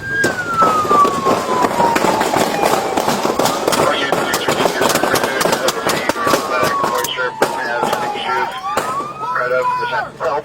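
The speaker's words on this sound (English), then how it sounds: "Shots fired." Rapid gunshots crack repeatedly during a police chase in Los Angeles, dense bursts of sharp pops under a wailing police siren and radio chatter.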